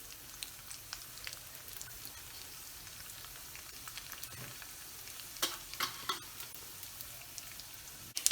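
Mustard seeds pop and crackle in hot oil with a steady sizzle while cooking keerai sundal, sharp spluttering bursts growing louder and more frequent toward the end.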